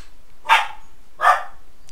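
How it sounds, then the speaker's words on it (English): A dog barks twice at a postman, two sharp, fairly close woofs about three quarters of a second apart, with quiet room tone between them. "Fucking my dog's gone mad because there's a postman."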